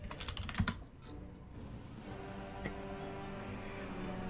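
Quiet typing on a computer keyboard, a run of soft rapid key clicks, closer and busier in the first second and then sparse faint taps over low room hum.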